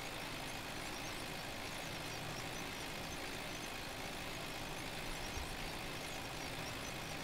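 Tractor engine in Farming Simulator 19, an old machine hobbling down a road: a steady, continuous mechanical drone with a broad rumble, holding at a constant level with no talk.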